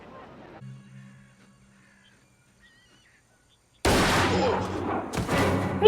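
Gunfire bursts in a tense drama scene, a sudden loud barrage of shots breaking in after a quiet stretch of talk, dense and close, with a sharp final crack at the end.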